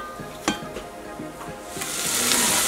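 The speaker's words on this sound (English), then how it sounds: "I'm going to go ahead and just start sauteing this now, and just wait till they get kind of translucent" Onions saute in a pan, giving a steady sizzle that grows louder and brighter toward the end, with a few stirring scrapes near the start.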